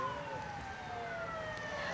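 Fire engine siren from BPBD firefighting trucks responding to a building fire in West Aceh, Indonesia, a wailing tone sweeping slowly downward, moderately distant and steady.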